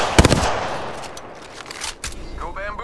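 Gunfire from a car SMG in the Apex Legends video game, a quick burst of several sharp shots near the start and more scattered shots later, mixed with game effects and a voice talking.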